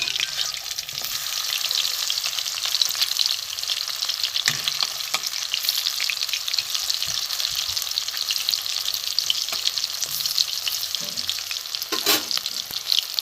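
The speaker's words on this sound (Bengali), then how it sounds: "একটু লাল করে ভাজা হোক" Oil sizzles and crackles loudly and continuously as shrimp fritters fry, with occasional scraping of a utensil stirring in the pan.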